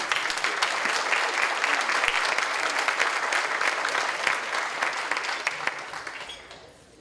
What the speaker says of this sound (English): we must give everyone a round of applause